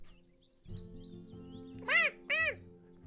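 A person's voice imitates a bird's mating call with two quick, high, rising whoops in a row, loud and close, over a low steady hum.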